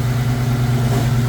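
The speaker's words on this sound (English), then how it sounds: "Y'all hear that grinding?" A 1997 Mustang GT with a grinding clutch runs nearby, a steady low mechanical drone with a faint rough grinding texture throughout the short stretch.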